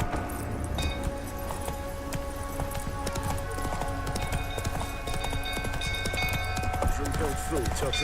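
Roach, a horse in The Witcher 3, clip-clops steadily at a run, close and continuous under game music and a voice speaking.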